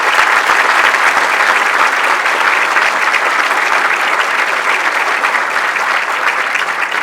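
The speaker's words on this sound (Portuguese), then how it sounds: "uma salva de palmas a estes." Dense applause from a seated audience at a civic award ceremony honoring local personalities, steady and full for the whole stretch with no voices rising above it.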